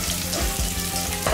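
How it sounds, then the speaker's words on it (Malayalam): Quarter of a sliced onion sautéing in ghee with whole spices for ghee rice, a close crackling sizzle broken by a few rhythmic spoon strokes against the pan. "ഇനി അതിലേക്ക് ഞാൻ ഒരു സവാളയുടെ 1/4 ഭാഗം മാത്രം കട്ട് ചെയ്ത് ഇട്ട് കൊടുക്കുന്നുണ്ട്. നന്നായിട്ട് വഴറ്റി കൊടുക്കാം."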